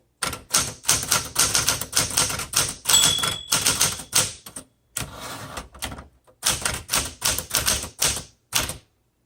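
Typing on a 1968 Smith Corona Super Sterling manual typewriter: close, loud key strikes in uneven bursts with brief pauses, a short bell-like ring partway through, and a near-silent gap before the clacking resumes.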